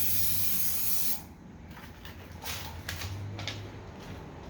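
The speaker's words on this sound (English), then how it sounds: "there's the spray adhesive." Spray adhesive hisses from a can inside a box onto a prepared wood block and paper design: a loud, steady spray for about a second, then softer, uneven hissing and faint rustles.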